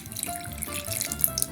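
A little boiled water trickles from a faucet or is poured into a shashlik marinade of vinegar and meat, a soft, close, brief splashing flow with a few drips.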